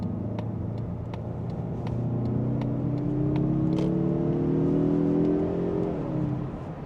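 A 2025 Mazda3 Turbo accelerating out of a corner, its engine note rising steadily and strongly from inside the cabin, over a constant road rumble with faint ticking, then easing off near the end.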